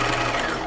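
A sewing machine stitches a jacket bodice seam, a short steady mechanical whir at moderate loudness with no voices.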